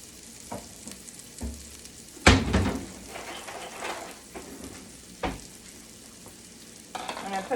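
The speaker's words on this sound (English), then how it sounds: "I'm gonna let this butter melt." Butter melting in a pan for chicken fried rice with peas and carrots, a steady low sizzle under a few sharp knocks and scrapes of utensils, close and moderately loud, no voices.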